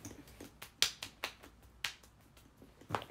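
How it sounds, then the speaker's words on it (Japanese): A few sharp hand claps, sparse and irregular, with about five or six crisp, fairly close slaps and no talking. "拍手。"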